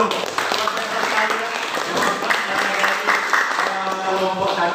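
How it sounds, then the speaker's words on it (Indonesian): An audience at a long-jump teaching practice session claps in steady, dense applause, with people talking underneath. "Ya, tepuk tangan dulu."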